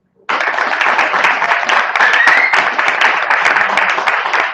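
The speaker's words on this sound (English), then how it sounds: "And give our Nobel Quality Day recipients a round of applause." Audience applause for Noble Drew Ali Day recipients at a Moorish community gathering, a steady dense burst of clapping that starts abruptly and holds loud and even throughout.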